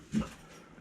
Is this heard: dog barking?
yes